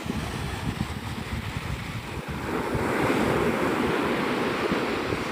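Ocean surf at Navarre Beach, Florida rushes continuously and close by, mixed with wind buffeting the microphone, and swells louder halfway through.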